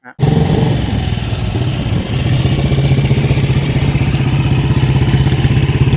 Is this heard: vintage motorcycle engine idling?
yes